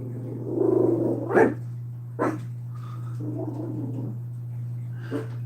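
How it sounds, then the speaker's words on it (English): A dog gives a few short, sharp yelps and whimpers after an ice machine switches on. A steady low mechanical hum runs throughout. "Ice machine just came on, freaked the dog out."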